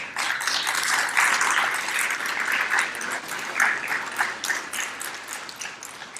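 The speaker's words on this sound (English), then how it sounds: "Let's give him another round of applause." Steady applause from a lecture audience at a Council of Nicaea anniversary event, sustained clapping throughout at a fairly even level with no talk.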